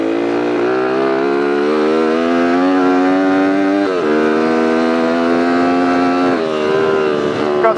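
A Honda CR80 two-stroke dirt bike, converted and ridden around a lake riding area, whines steadily and loudly with its pitch rising and falling as the throttle changes, alone and close.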